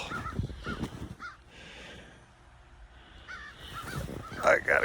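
Crows caw repeatedly in short harsh bursts, near and fairly loud, at a cold-weather farm with sheep and dogs, with a person talking at times between the calls.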